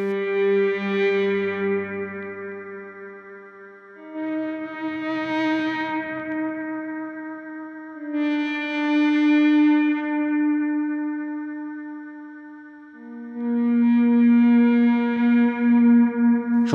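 Electric guitar volume swells coming in slowly one after another, with light distortion for sustain and echoing delay repeats trailing behind each.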